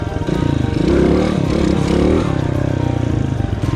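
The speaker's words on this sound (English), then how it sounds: "Going slow, clutch in, rev it up." A motorcycle engine revs with the clutch in while a beginner practises wheelies: a loud, close engine note that climbs, holds and eases back down, with some mechanical clatter underneath.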